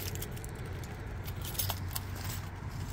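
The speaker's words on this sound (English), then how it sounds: "That's the keys." A set of Suzuki Carry kei truck keys jangles near the microphone in light, repeated metallic chinks over a low steady engine-like hum.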